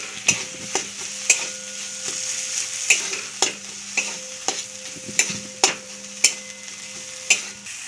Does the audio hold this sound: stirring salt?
yes